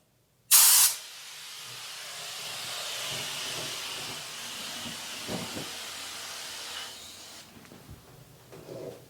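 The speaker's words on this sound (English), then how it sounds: "And then spray 8 to 12 inches away." After a sharp initial burst, an aerosol can of cleaner sprays a long, steady hiss for several seconds, close and fairly loud, then cuts off, followed by faint handling noises.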